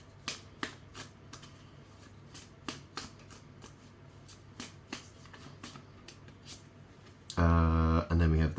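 Tarot cards shuffled by hand, a series of crisp riffling snaps and soft slides spaced through the stretch, close and fairly quiet, ending in a louder burst of unrelated noise.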